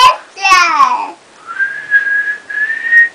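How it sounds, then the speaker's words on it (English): A person whistles a few sustained, fairly steady tones in close range after a brief spoken bit at the start. "Your daddy taught me how to whistle"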